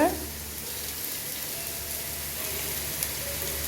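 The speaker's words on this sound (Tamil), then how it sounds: "ஒரு ஆனியன் சேர்த்துக்கிறேன். ஆனியனும் நல்லா ஃப்ரை ஆகணும்." Chopped onion frying on high heat for gobi fried rice, a soft, even sizzle like light rain that holds steady throughout at moderate loudness, with no talking.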